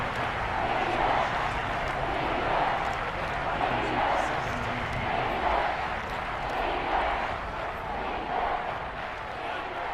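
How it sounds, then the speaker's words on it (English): A stadium crowd in a football video game chants "defense" on third down in the fourth quarter, a broad, rhythmic roar that swells steadily and continues without a break under the commentator's voice. "You hear the crowd chanting defense."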